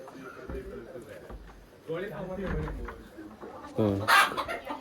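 Chickens cluck close by at a chicken coop between and under stretches of talking, with a louder burst of clucking near the end.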